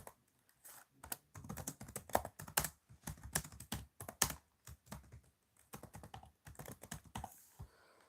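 Rapid typing on a computer keyboard, a steady patter of close, crisp keystrokes with short pauses between bursts, heard alone with no voices.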